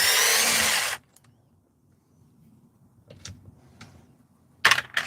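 A power tool whirs loudly in a single burst as it spins nuts off the shocks of an RC car, stops abruptly, then light handling clicks follow before another short whir.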